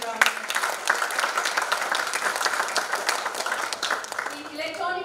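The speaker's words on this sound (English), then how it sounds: "I think he deserves a round of applause." Applause for a placed student at a college of engineering annual day, a sustained dense clapping from a large audience in a hall, fading at the end as a voice begins to speak.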